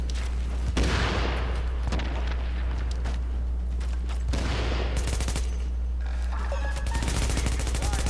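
A grenade blast and bursts of gunfire in the video game The Division, loud and dense, with repeated booms and rapid shots crowding together over a constant low hum.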